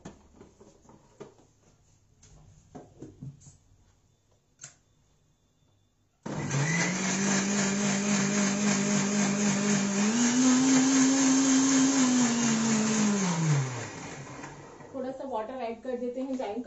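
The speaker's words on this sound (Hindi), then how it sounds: "इसको संभाल कर ही ग्राइंड करना है।" A kitchen mixer grinder runs on still-warm ingredients, starting abruptly with a loud whirring hum that climbs in pitch midway and then winds down, with people talking before and after it.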